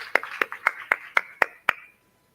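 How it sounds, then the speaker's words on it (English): Panelists are welcomed at a mobility conference in Africa with seven crisp, evenly spaced claps in a slow steady rhythm, close by, then silence. "We can please welcome them with a round of applause."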